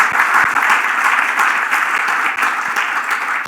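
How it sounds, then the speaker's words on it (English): An audience applauds a long-serving former United Nations ambassador at a lecture, a loud, steady sustained roll of clapping filling the room from start to finish. "So let's give him a round of applause for"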